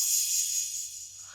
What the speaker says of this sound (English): this crash that we both like, and it sounds like this